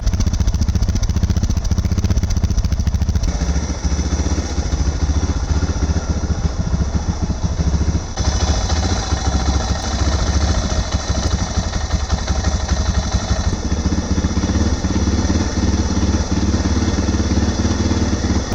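A Suzuki DR650 motorcycle engine idles loud and close at a high, steady, rapid thumping rhythm, with mechanical clatter, its tone shifting slightly a few times.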